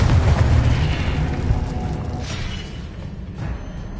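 A booming Confringo explosion spell from Hogwarts Legacy erupts loudly at the start, then its rumbling blast decays over several seconds, with a faint high whine and a few later pops.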